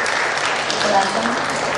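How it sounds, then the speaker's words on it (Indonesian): Sustained audience applause for Stanley, the filmmaker, at a launch event in Jakarta; dense, steady clapping from a crowd with a voice speaking over it. "Boleh saya minta tepuk tangan sekali lagi untuk Stanley"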